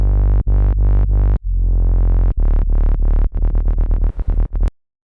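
Loud Serum 2 synth bass in a bass music style at 126 BPM, heavy and distorted, with sustained gritty notes broken into choppy rhythmic stabs that speed up before cutting off.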